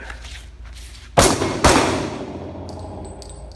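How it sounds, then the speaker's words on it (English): Two loud gunshots at shooting practice, close and sharp, fired about half a second apart, each leaving a fading echo, with faint background noise afterward. "it's hard to tell a story and shoot at the same time"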